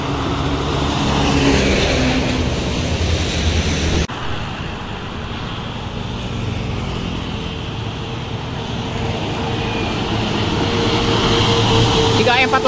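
Budiman intercity bus E218, bound from Tangerang to Banjar, rolling past on a road with a loud, rumbling engine and tyre roar amid continuous traffic noise, while someone talks over it.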